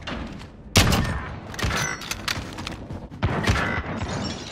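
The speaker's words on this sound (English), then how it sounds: "this dude's using a shotgun" Shotgun blasts in a first-person shooter video game, several sharp heavy booms spaced irregularly with mechanical clatter and rattling between shots, loud and close.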